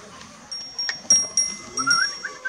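Palas Merino sheep bleat on a farm, with several short, fairly close calls scattered through a quiet outdoor background and no talk over them.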